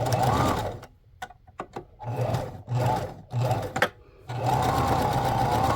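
A sewing machine zigzag-stitches through a handmade shabby-style paper journal in several close, loud runs, stopping and starting in short bursts before settling into one long steady run.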